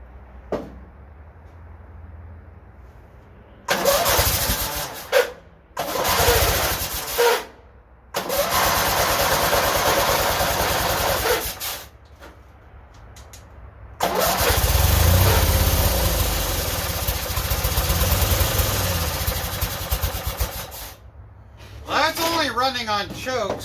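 A Yardman lawn tractor engine is cranked in several short bursts, catches and runs rough on choke, cutting out and restarting between gaps of quiet, with someone talking over parts of it.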